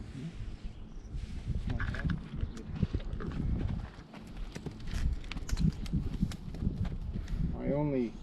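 Hooves of a horse clop softly on the ground in an uneven walking rhythm, close by, with someone talking over them and a brief higher whinny-like sound near the end.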